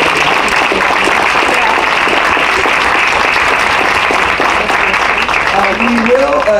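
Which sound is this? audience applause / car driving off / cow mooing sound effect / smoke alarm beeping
audience applause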